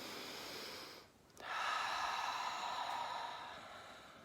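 One deep breath is drawn in slowly and then let out in a long airy exhale, close and soft, in a quiet mindfulness setting.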